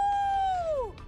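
A person imitates a wolf howling, one sustained tonal wail that holds steady and then slides downward at the end, close and fairly loud.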